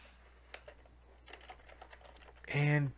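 Typing on a computer keyboard, a handful of soft, scattered key clicks that is fairly quiet, followed by a short loud burst of speech at the end.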